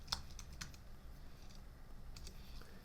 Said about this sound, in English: So I'm going to type extrude,